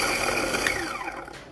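Coffee beans being ground in a grinder, a continuous gritty whirring that runs close and loud, then trails off as it winds down.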